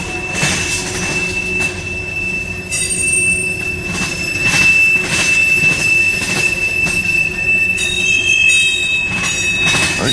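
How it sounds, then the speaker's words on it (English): A freight train's steel wheels roll over a railroad diamond crossing, a loud, steady rumble with clanking and a sustained high wheel squeal. No talking is heard. "Great sound of them steel wheels going over the road there on that diamond."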